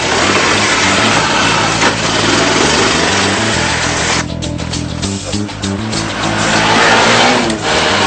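A Honda Cub motorcycle running on chip oil drives around the block, its engine droning loud and close throughout with shifting revs and a brief dip in the middle.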